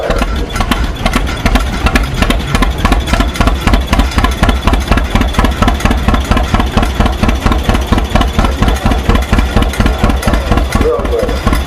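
Tractor engine at a John Deere tractor pull running loud and close, with a steady rapid chugging beat that stumbles in an uneven, misfiring rhythm throughout.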